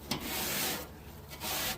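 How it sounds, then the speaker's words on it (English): Hand rubbing and scrubbing the inner metal walls of a pellet grill during cleaning, a steady close scraping swish in two strokes with a brief pause between, no talking. "I'm just going to rub those inner walls there"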